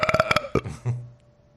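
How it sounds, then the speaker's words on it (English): A loud, close burp, opening with a rapid rattling burst and trailing off into a lower croaking tail, heard alone. "That was extraordinary burp."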